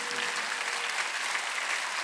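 Congregation applauding during a Sunday church service, a dense steady clatter of many hands clapping together throughout, fairly distant and even in level with no pauses.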